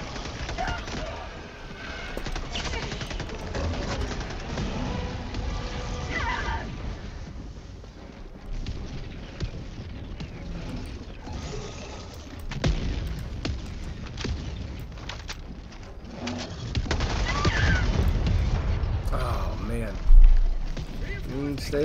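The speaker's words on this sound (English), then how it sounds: "Barrage incoming. Watch out." Video game barrage of explosions and gunfire, continuous rumbling blasts and crackling shots throughout, with a heavier burst near the end, under frequent voices.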